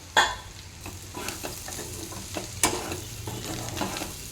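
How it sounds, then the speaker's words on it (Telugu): Black-eyed peas and chicken fry in a pan with a steady, close sizzle, broken by clinks and scrapes of a spoon stirring, and no voices. "ఈ రెండు కలిపి కొంచెం సేపు ఫ్రై అవ్వాలి"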